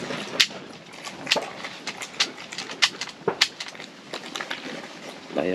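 A dog chews and crunches on something close by, producing irregular crisp crackles and snaps over a steady background hiss.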